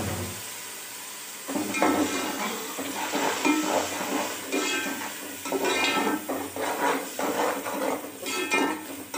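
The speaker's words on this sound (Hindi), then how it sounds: "इसको 1-2 मिनट के लिए हम फ्राई करेंगे।" Garlic, ginger and green chili paste sizzling in a hot pan for keema pulao, a steady frying hiss with stirring scrapes and clinks of a spoon against the pan.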